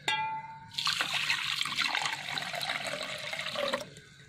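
Water pours into a metal vessel fitted with a silver strainer, a close splashing trickle that starts after a brief clink and runs steadily for about three seconds before stopping.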